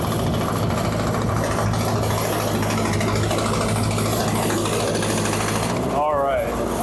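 A 1948 Ford 8N tractor engine runs steadily in fourth gear, a loud continuous low rumble with mechanical vibration throughout, nearby and constant for the whole stretch, with a brief voice near the end.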